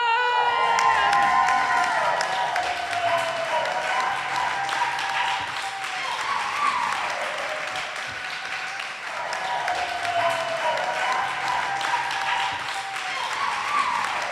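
A studio audience at a comedy show cheers and applauds the night's winner, with loud sustained clapping, whoops and shouts, and sweeping musical tones over the crowd noise.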